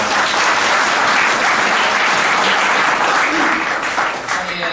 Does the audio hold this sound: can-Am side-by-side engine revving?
no